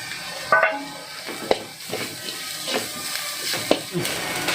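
Spice powders and chopped coriander leaves frying in a pan while being stirred, with a soft steady sizzle and several sharp spatula scrapes and taps against the pan at irregular intervals.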